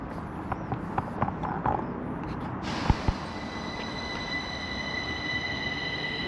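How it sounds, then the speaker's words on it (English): A long train to Alvik pulls away from Skogskyrkogården station, with clattering wheel knocks early on, then a steady rumble and high metallic whine as it moves off. "The train to Alvik leaving, and this was a long train"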